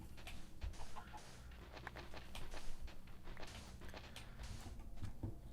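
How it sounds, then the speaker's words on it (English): A chicken carrying a baby zombie rider in the Minecraft video game clucks quietly and repeatedly over soft game ambience, with no one talking. "I can hear a baby zombie. And it's riding a chicken."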